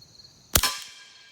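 A single FN 502 pistol shot fired with suppressor ammunition (Federal Auto Match or Winchester Super Suppressed): one sharp, loud crack with a short ringing decay, alone without talk.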